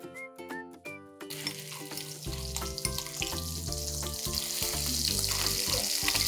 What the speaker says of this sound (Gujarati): ઘી બહુ ગરમ ન હોય ત્યારે જ આપણે મરચાંની પેસ્ટને એડ કરશું.